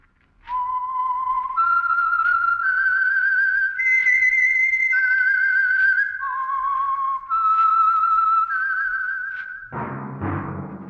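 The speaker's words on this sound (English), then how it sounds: "That whistle is your signal for the Signal Oil Program, The Whistler." A whistled theme melody opens The Whistler radio drama, a clear, loud solo line of sustained pitched notes stepping up and down for about nine seconds, followed by a sudden swell of orchestral music.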